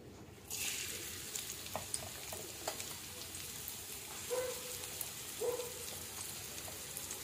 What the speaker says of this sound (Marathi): तेल गरम झाले की आपण त्यात कांदा परतून घेऊ।